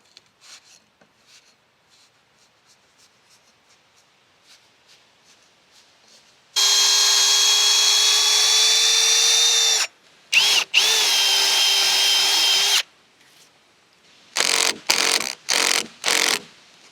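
A power drill drives screws down through stacked logs on a log cabin under construction with insulation between courses, whining in a long loud burst, then a second sustained run and several short pulses, with no talk.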